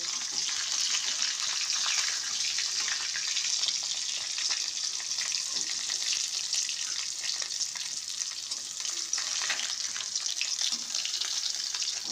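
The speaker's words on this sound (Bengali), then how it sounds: "মাছ ভাজা হয়ে গেছে এবারে নামিয়ে নেব" Steady, bright sizzling of fish frying in hot oil, continuous and close, with faint clinks and no voices.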